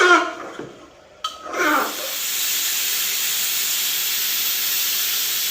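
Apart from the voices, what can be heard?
meat with boiled taro being fried in a pan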